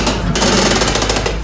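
Roller coaster at a Las Vegas fan experience ride starting up, a loud continuous mechanical rattle and clatter with rapid rhythmic chain-lift-like knocking, close and steady throughout.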